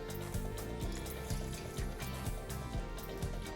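Water is poured into a bowl of sugar to make syrup for jalebi, a continuous, faint splashing trickle heard alone.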